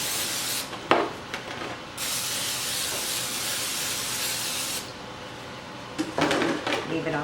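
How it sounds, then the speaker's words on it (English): Cooking spray hisses from a can into a baking dish in a home kitchen, in two long bursts separated by a pause, with light clatter of the dish between them. "I'll spray it with cooking spray."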